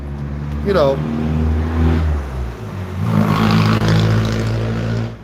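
A car engine revs loudly through its muffler at a roadside in Thailand, a close, rising and falling roar that swells, dips, then surges again.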